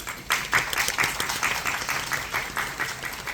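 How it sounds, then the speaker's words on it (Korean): Applause from a theater audience during a curtain-call stage greeting for the staff, a fairly close, rhythmic burst of clapping lasting a few seconds. "우리 스태프분들에게 다시 한번 큰 박수 드리고 싶습니다"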